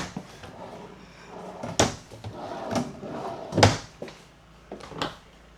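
Drawers slide and thud shut several times at irregular intervals, close by, inside a 2026 Forest River Impression 315MB fifth-wheel RV, with a few softer scrapes between the louder knocks.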